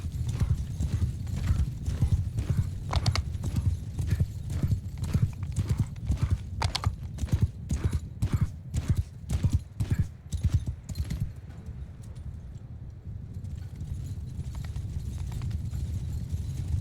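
Horse hoofbeats from Mount & Blade 2: Bannerlord, a rapid galloping clip-clop that pounds close and loud for most of the stretch, briefly broken by a whinny, then fading to a softer rumble near the end.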